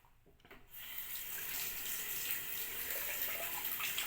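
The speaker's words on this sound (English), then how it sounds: "Rinse the razor out" Bathroom tap running steadily into a sink while a razor is rinsed, a close, continuous hiss of water that starts after a brief quieter moment.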